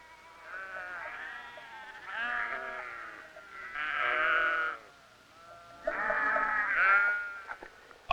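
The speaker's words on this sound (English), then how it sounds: "These sheep produce wonderful wool" Several sheep on a large Patagonian wool ranch bleat in long, wavering calls, four loud bursts close by with short pauses between, no voices present.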